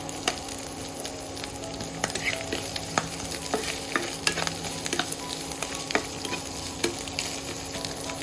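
Homegrown village vegetables with onion and green chilies sizzle in a pan while being stirred, a continuous frying hiss punctuated by repeated scraping and knocking strokes of a spoon, close and fairly loud.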